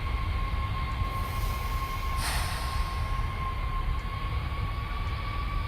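A train rolling steadily in the Train Simulator video game, a constant rumble with a faint high whine, loud and continuous throughout with no talking.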